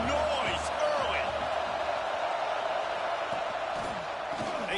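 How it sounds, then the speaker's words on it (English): Constant roar of a football stadium crowd during a college game, a steady dense wash of noise with faint shouts rising through it while a commentator talks over the top. "This crowd bringing the energy and noise early."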